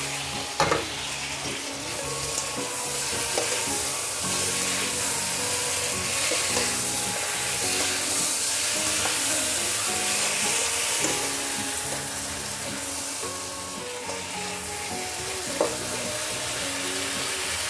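Pork belly fries and is stirred in a pot, a dense, steady sizzle running throughout with intermittent scraping and clinks from the utensil, fairly loud and close.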